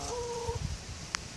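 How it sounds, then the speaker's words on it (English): Chickens cluck nearby in a short burst, a couple of brief calls over steady outdoor background noise. "Damn chickens."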